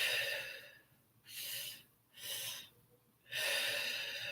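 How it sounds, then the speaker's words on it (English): Guided three-part breathing: two audible inhales, into the belly and then the chest, followed by a long, forceful exhale, all close and breathy with nothing else in the background. "you're going to breathe into the lower belly, second breath into the chest, and then you exhale out"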